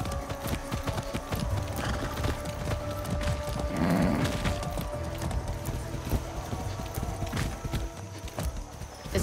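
Horse hooves clip-clop steadily through the whole stretch in Far Cry 6, close and even-paced, with an occasional soft snort and a faint mechanical clicking behind them.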